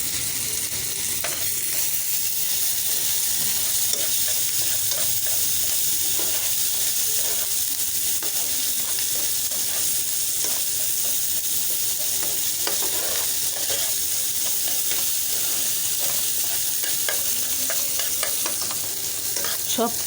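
Spices with garlic paste, ginger paste, salt, turmeric and coriander powder fry in hot oil, a steady loud sizzle with frequent scraping stirs of a spoon through the pan, continuous and close.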